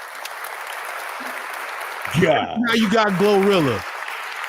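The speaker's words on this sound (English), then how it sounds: "Round of applause." Steady applause from an audience runs through the whole stretch, clapping under a voice that speaks over it midway.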